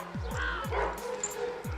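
A street dog along a regular walking path lets out four sharp, yelping barks in uneven succession, close and loud against a low background hum.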